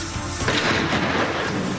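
A single heavy boom from a large-calibre gunshot striking the engine block of an armoured car, a loud rumbling blast that swells and lingers with a broad roar rather than a sharp crack.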